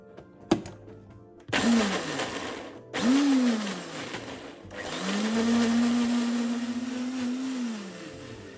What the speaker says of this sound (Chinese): 香茅嫩一点，搅拌器搅拌后容易化开，比较好入味。